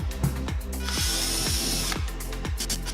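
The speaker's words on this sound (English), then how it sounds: "begin pre-drilling the screw holes into the side walls" A power drill pre-drills screw holes into the side walls of a funnel, its motor buzzing in short bursts with a rhythmic ratcheting pulse, close and loud.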